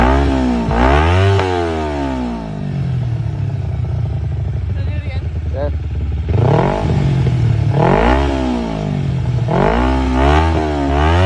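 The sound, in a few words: motorcycle engine being rev bombed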